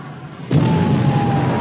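A large naval gun fires in a 1960 British wartime sea drama about the Bismarck, a sudden heavy boom that rolls into a sustained, loud roaring rumble.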